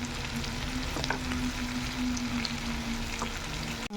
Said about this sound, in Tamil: நான் வந்து இன்னொரு சைடு திருப்பி போட்டிருக்கேன். ஸோ இது நல்லா ரோஸ்ட் பண்ணிக்கோங்க.